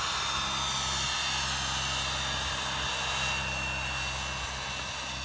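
Turbine-powered RC helicopter (Whiplash Turbine) held at 2,000 RPM in idle up 2 at an outdoor flying event: a steady, loud, continuous jet whine and roar without breaks or speech.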